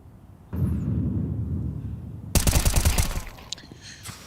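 Rapid M4 rifle bursts in Counter-Strike at an IEM Cologne 2025 match, a dense crackling volley that follows a long stretch of steady crowd-like rumble, then trails into a few scattered shots.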